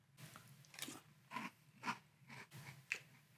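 Cap'n Crunch's Crunch Berries cereal eaten in milk, close-up crunchy chewing in several bursts of bites with brief pauses, no talking.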